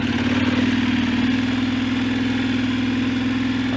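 A motorbike on a sandy road trip track between Wave Rock and Esperance holds a steady, close engine drone with a low throbbing pulse while it waddles through soft sand, with no speech over it.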